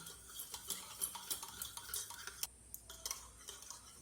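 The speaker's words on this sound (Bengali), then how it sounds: "এখন তেলটাকেও এই টক দইয়ের সঙ্গে খুব সুন্দর করে মিশিয়ে নিতে হবে" A spoon stirring refined oil into sour curd and sugar in a bowl, giving faint, irregular scraping and light clinks close by, quiet with no talking.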